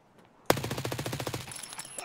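MPX submachine gun firing a rapid automatic burst in Escape From Tarkov on the Customs map, a sharp opening crack followed by about a dozen quick, evenly spaced shots, loud and close.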